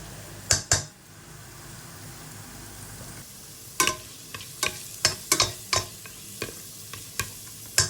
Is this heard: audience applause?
no